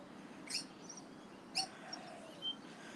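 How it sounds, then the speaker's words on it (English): A few brief, high bird chirps ring out outdoors over a steady low background hum, spaced a second or so apart. "listen to the birds"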